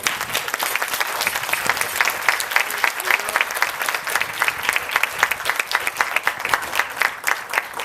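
A conference keynote audience claps for the speaker, a loud, close burst of individual claps that keeps going at an even, lively pace with no letup.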